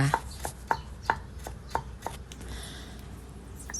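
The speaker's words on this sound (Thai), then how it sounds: "เสร็จแล้วก็ซอยขิงให้เป็นชิ้นหน่อยๆจ้า" A knife slices ginger sharply on a board, about seven crisp strokes in an uneven rhythm, then the cutting stops, leaving quiet room noise.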